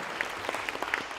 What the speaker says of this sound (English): Can we give him a big round of applause as he makes his way on stage?